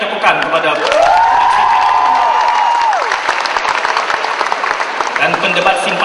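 Audience applause at the Prime Minister's Cup 2011 debate final in a hall, a loud sustained clapping wash mixed with crowd noise and an announcer's voice over the top throughout.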